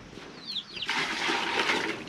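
Hot water is poured out of a vessel in a rural Nepali village, starting as faint squeaky trickles and then breaking into a steady, splashing rush that continues to the end.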